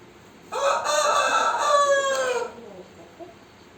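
A rooster crows loudly and close on a Thai chicken farm, one long drawn-out call with faint clucking in the quiet around it.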